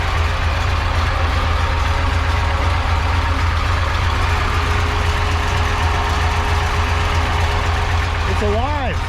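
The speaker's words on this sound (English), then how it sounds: "The car's running." A supercharged 1976 Chevrolet Corvette C3 engine idles steadily and loudly nearby, a constant rumbling drone with a faint supercharger whine, and a voice comes in briefly near the end.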